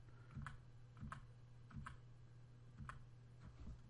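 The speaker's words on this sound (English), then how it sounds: "I'm going to use the bottom arrow key on the keyboard" Several sharp computer keyboard clicks as arrow keys are tapped one at a time, roughly every half second to second, close and fairly quiet over a steady low hum.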